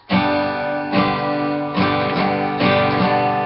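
An acoustic guitar strums chords in a repeating four-stroke pattern, steady and close, the same rhythm cycling several times with no voices.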